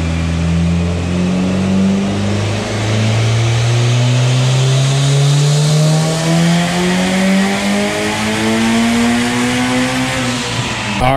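Turbocharged Honda B16 VTEC engine in a Del Sol revving hard on a dyno, a loud sustained pull with rising pitch climbing through the rev range, then cutting off at the end.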